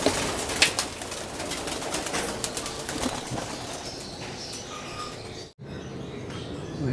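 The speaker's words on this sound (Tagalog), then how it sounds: "Ito na sila mga kalapatids." Pigeons are released from a loft with a busy wash of wing flaps and scattered bird calls, a steady fluttering texture throughout that cuts out briefly near the end before resuming.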